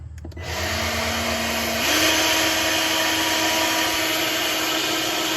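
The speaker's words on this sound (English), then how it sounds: "we're gonna hook the old blower up to the nozzle up here" An old blower hooked up to a nozzle on a 1974 Chevy C20 squarebody truck spins up after a couple of clicks, then holds a loud, steady whining roar with a rising tone and airy hiss throughout.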